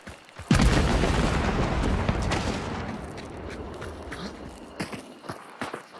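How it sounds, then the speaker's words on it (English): Gunfire from a distant sniper, starting with a sharp loud crack and then a long dense rumble of shots, followed by scattered fainter bangs near the end. "I'm getting shot at."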